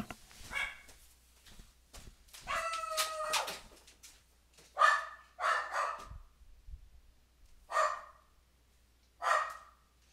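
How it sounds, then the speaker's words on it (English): A dog barks indoors in a home, sharp separate barks and short clusters of yips spread across the stretch, fairly close and loud, against an otherwise quiet room. "Can you make the dog be quiet, please?"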